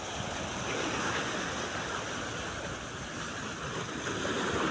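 Sea waves at Matnog port wash continuously against the seawall, a broad steady rushing surf close by.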